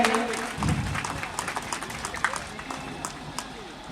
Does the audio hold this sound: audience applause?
yes